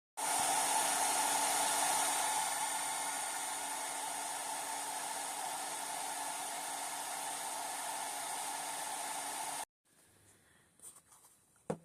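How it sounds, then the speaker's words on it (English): A hair dryer blows on a small Disney doll, a loud steady whooshing roar running continuously for nearly ten seconds before cutting off abruptly, leaving faint handling noises and a few soft taps. "I'm going to try drying her with the hair dryer."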